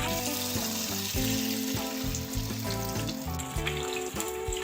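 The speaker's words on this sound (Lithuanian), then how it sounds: "Dabar pilsim vandenį." Water pours into a pan of sizzling fried meat being cooked for a family pasta dish, a steady hiss and splash close by, with tonal background music running throughout.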